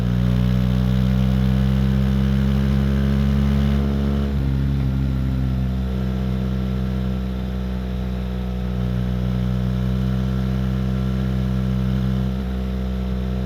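A BMW GSA motorcycle engine drones steadily while riding, a loud, close, continuous hum with a noticeable pitch drop partway as the rider shifts, then holding a level cruise.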